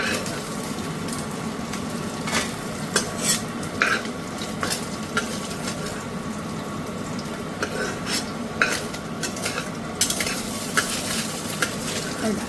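Fried fish stirred and lifted from a karahi, with a steady close sizzle of hot oil broken by repeated metallic scrapes and clinks of a spatula, no voices.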